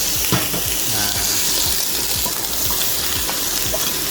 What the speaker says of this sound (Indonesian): terus ditumis sedikit ya